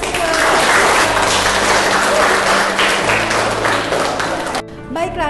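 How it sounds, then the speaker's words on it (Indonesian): Classroom applause as students clap together during a lesson, a dense burst of clapping with a low steady hum underneath that cuts off sharply near the end, followed by a brief voice. "Tepuk tangan untuk kita semua."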